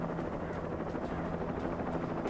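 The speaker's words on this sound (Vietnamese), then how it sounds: "Không trực thăng à?" Steady helicopter rotor thrum from the Alan Wake video game, a continuous rhythmic chopping drone at moderate loudness with no talking.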